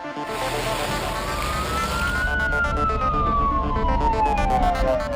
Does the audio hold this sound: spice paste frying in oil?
no